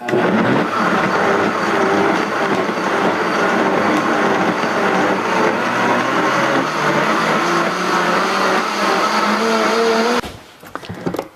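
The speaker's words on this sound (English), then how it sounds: "I decided to put it in the Vitamix and like make kind of a marmalade." A Vitamix blender whirs loudly and steadily up close while blending aronia berries into a thick jam, running without break for about ten seconds before cutting off abruptly, with no one speaking.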